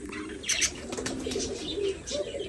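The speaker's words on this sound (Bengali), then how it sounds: "এই যে ঘুঘু পাখি ডিম নিয়ে বসে আছে মাশাআল্লাহ।" A dove sitting on its eggs coos softly in short low phrases close by, with a few faint chirps and a brief flutter of wings.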